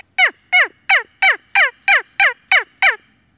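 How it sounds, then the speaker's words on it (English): High-pitched two-part wingbone turkey call sounding nine evenly spaced sharp yelps, each a quick descending note, close and loud with nothing else heard. "it gives a much higher pitch call than some of the wingbone, especially the three-part wingbone calls do"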